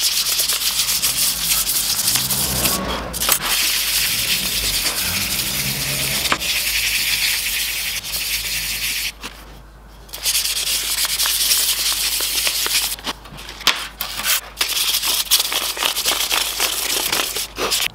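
A hammer head is hand sanded with 320 grit sandpaper, a dense, continuous close scratching with brief pauses between passes and no speech.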